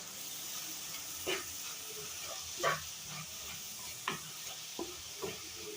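Onions fry in a pan with a steady soft sizzle and hiss, while a spoon stirs them in several separate scraping strokes spaced a second or so apart.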